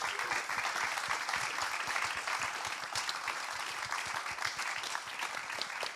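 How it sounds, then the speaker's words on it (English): An audience at a talk on young women and climate justice claps in a sustained, even round of applause lasting several seconds, dense and fairly close with no gaps. "please give them another round of applause"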